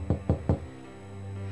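Three quick knocks rap on a door in a prison interview room, evenly spaced and fairly close, followed by quiet room hum.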